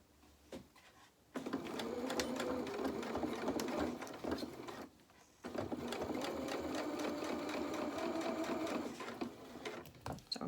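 A sewing machine runs a quarter-inch seam around pyjama trousers in two long steady stretches separated by a brief pause, a close, even whirring with faint clicks at the starts and stops.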